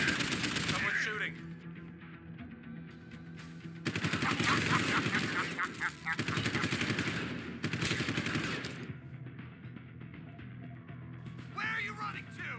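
Bursts of rapid automatic gunfire in Deus Ex: Human Revolution Director's Cut, loud and close in several volleys with short pauses, over game ambience and occasional voices.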